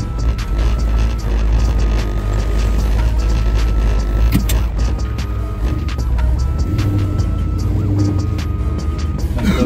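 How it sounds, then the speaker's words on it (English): A car pulling away for a drive, a steady loud engine drone and road rumble with mechanical rattles, continuous throughout with no talking. "Let's go for a ride, Jay."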